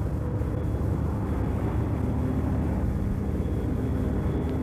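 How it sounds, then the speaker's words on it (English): Enola Gay bomber aircraft banking away at high speed, a steady, broad, rumbling roar of engines and airflow heard continuously and evenly at moderate volume. "The aircraft banks away at high speed."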